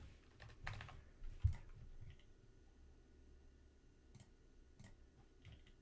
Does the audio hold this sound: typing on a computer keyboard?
yes